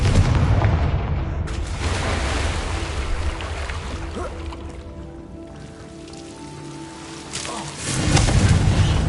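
A Confringo blasting spell from the Hogwarts Legacy video game: a booming, rumbling burst that rolls out and settles into a softer wash, then another heavy surge of noise near the end.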